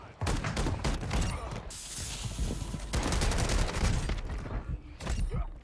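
Shotgun loaded with incendiary fire rounds blasting in close-quarters Warzone combat, a continuous dense stretch of heavy booming shots and crackling bursts with no gaps.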